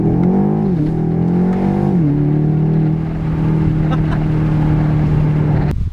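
A BMW X6M Competition, the 2020 model, revving hard in first gear, its engine note loud and close, climbing and shifting pitch before settling into a steady drone.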